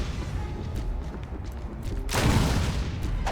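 Gunfire aimed at a huge monster in Resident Evil HD, a low rumbling bed followed by a loud, heavy blast that booms and fades over about a second.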